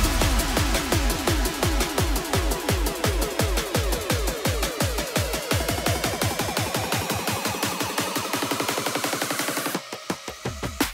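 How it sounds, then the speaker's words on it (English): A drum and bass build-up: rapid drum hits speed into a tight roll under sweeping risers and falling downlifters, loud and dense, then cut off into a few sparse hits at the end. "In the build-up, you have to add some nice build-up drums with some downlifters and risers to create tension."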